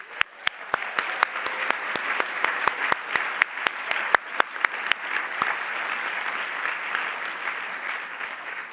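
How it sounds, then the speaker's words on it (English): A commencement audience applauds faculty and staff with a sustained round of clapping, sharp individual claps standing out over a steady wash of crowd applause that gradually thins. "Please join me in honoring them with a loud round of applause."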